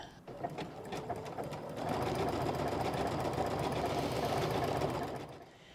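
Sewing machine stitching along the facing edge of homemade pull-on pants, a steady continuous mechanical whir that runs loud and unbroken for several seconds before tapering off at the end.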